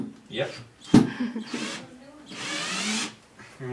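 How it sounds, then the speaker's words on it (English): A power drill bores into a household wall in short bursts, whining up and down in pitch, the last burst sustained and loud, with a sharp knock between runs and someone talking. "And we're just going to drill that motherfucker in there."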